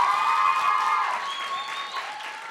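Audience applause at a student talent-show awards announcement, a steady clapping crowd filling the room for a couple of seconds and easing slightly toward the end, with no voices over it.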